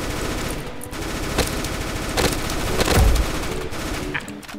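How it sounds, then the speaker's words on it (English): Rapid gunfire from weapons in the video game Banana Shooter, dense repeated bursts of shots with a heavier boom near the end, loud and continuous with no speech. "if you have a shotgun, you can just jump forever"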